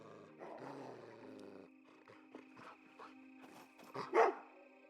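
A dog barking in a video game, several short gruff barks and growls at varying volume, the loudest near the end, set against a steady background tone.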